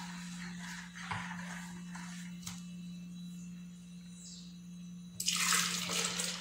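Water from a kitchen tap runs and splashes into a sink, faint at first with a few drips and clinks, then gushing louder near the end over a steady low electrical hum.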